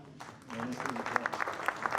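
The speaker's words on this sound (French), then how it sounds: "Et d'être applaudi, apparemment." A small audience at a municipal New Year's greetings event in Voiron, France, begins clapping after a short pause, scattered claps quickly building into modest, moderately close applause.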